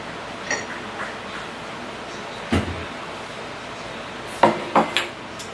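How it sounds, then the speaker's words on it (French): Ceramic dishes clink and knock in a kitchen as a container is lifted out from among them, a few soft taps early on, then several sharp close clatters near the end, with no talking. "Je vais prendre pas un bol, mais un récipient un peu plus grand que ça."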